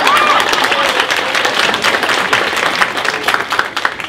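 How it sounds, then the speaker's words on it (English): An audience at an evening launch event applauds and cheers, loud sustained clapping mixed with crowd noise and a brief whistle near the start. "That is also an applause line."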